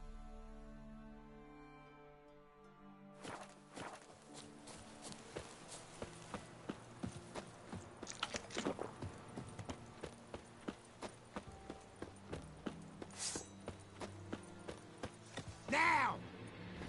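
Horse hooves clip-clopping at a steady walking pace in Witcher 3 on Death March difficulty, with regular moderately close hoof strikes across the ground, occasional creaks and background game noise, and a voice speaking now and then.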